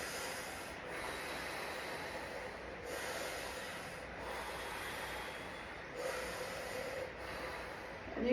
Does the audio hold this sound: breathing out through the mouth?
yes